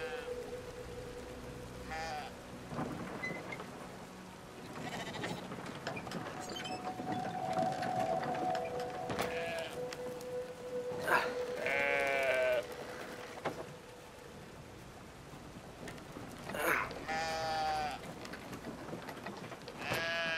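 Sheep bleating several times over a quiet outdoor background, drawn-out wavering calls at moderate distance with pauses between them and some faint low rumbling in the gaps.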